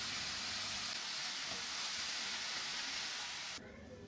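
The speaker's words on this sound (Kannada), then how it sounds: "ಬಾಂಡಿಗೆ ಫಸ್ಟ್ ಎಣ್ಣೆ ಹಾಕಿ ಅದನ್ನ ಫ್ರೈ ಮಾಡಬೇಕು" Food frying in oil in a pan, heard as a close, continuous hiss and sizzle that holds steady, then drops slightly in level near the end.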